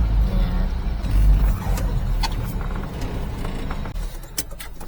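Mini-truck driving up onto a pond during a scenic ride through West Mountain State, a close, steady engine and road rumble with rattles and brief clunks, no talking.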